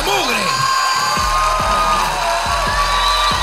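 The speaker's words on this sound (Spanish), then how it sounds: "Un fuerte aplauso para todos ellos" Audience cheering, whooping and shouting for contestants at a competition event, a loud continuous crowd roar with excited voices and a booming low pulse repeating underneath.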